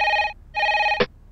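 A telephone rings in two bright electronic bursts with a short gap between them, loud and close, cut off by a sharp click as the receiver is picked up.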